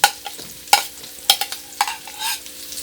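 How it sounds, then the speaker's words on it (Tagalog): Onion and garlic sautéing in a pan for sweet and sour milkfish escabeche, with a steady close sizzle broken by four or five sharp utensil scrapes and taps at uneven intervals. "Pag medyo luto na yung ating bawang, sunod natin yung ating sibuyas"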